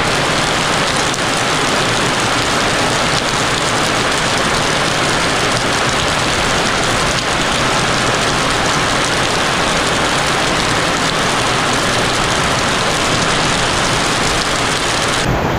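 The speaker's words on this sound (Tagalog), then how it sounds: "Grabe ang lakas ng ulan." Heavy rain pours steadily and loudly around a hut, a dense unbroken hiss that holds for the whole stretch, with a low rumble underneath.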